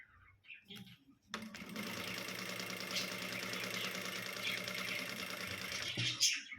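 An electric sewing machine stitches a dori onto cloth, its motor whirring in a steady continuous run for about five seconds after a short pause, close and moderately loud, then stopping.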